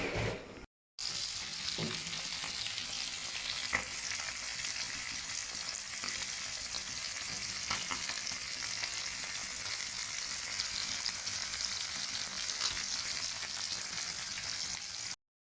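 Fish fries in a hot pan with dense, steady sizzling and crackling, fairly faint and continuous for the whole stretch after a brief dropout at the start, with an occasional scrape of stirring.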